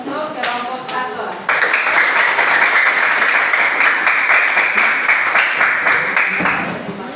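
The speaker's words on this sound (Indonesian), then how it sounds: "tepuk tangan untuk kelompok 1" Children in a classroom applaud a group of classmates, a dense wash of many small hands clapping that starts abruptly after a moment of talk and holds steady for several seconds before tapering off.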